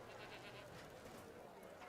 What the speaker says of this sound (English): Goats in the petting zoo.